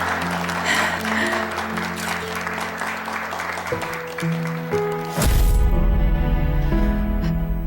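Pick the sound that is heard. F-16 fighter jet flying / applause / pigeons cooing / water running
applause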